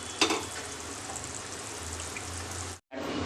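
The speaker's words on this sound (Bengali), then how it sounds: "ঝোলটা ফুটে আসতেই এবার একে একে মাছগুলো দিয়ে দেবো।" Pieces of katla fish going into a boiling potato and tomato curry, a dense bubbling sizzle that is close and continuous, with one brief pause near the end.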